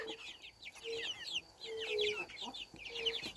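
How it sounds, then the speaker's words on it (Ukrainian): Several young chickens clucking and chattering in a steady, busy flurry, with a few short higher calls mixed in; close by, no talking. "Славненькі вже курчата."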